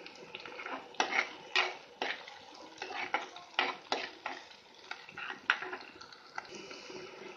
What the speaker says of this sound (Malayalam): ഉള്ളി, വെളുത്തുള്ളി, ഇഞ്ചി, പച്ചമുളക് എന്നിവ ചേർത്ത് കൊടുക്കാം